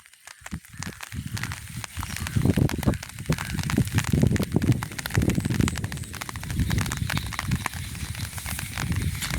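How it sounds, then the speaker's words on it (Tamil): Heavy rain pours steadily over a village, a dense continuous hiss with scattered louder patters and splashes into pooled water, close and unbroken throughout with no voices. "மழை பெய்து கொண்டே தான் இருக்குது"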